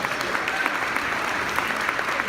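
Steady applause from a sizable luncheon crowd, dense and continuous clapping throughout with no pauses.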